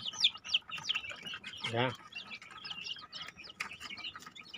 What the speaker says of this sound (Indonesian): Ini juga anakan ayam